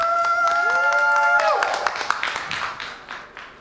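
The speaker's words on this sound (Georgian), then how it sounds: "ხურვალი აპლოდისმენტები, თუ შეიძლება." A studio audience at a televised dance competition bursts into warm applause after a rising musical sting, with clapping that swells and then tapers off over a few seconds.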